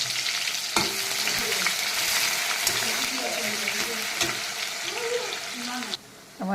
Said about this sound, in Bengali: আমার পেঁয়াজটা কিন্তু ভাজা হয়ে গেছে